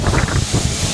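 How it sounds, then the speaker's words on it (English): Gale-force wind buffets the microphone in a continuous loud, low rumble, gusting unevenly throughout the moment with no voices. "We've got really mad gale force winds here as well."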